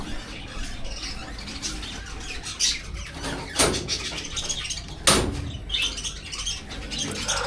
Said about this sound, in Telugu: ఇప్పుడు నేను పెంచుతున్న బర్డ్స్లో 1 pair of doves, 3 pairs of finches ఉన్నాయి.